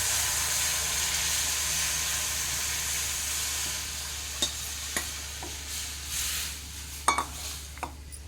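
Curry leaves, turmeric and buttermilk go into a hot pan for kadhi, giving a steady sizzling hiss with a few sharp clinks and spoon scrapes toward the end; no one speaks.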